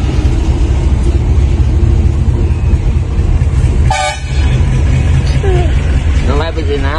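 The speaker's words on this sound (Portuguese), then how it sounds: "Aquela ali é original, buzina de trem, né?" A train-style air horn fitted on a freight truck sounds a single loud blast over steady road and engine rumble on a dirt road, with a shorter honk following; people talk nearby.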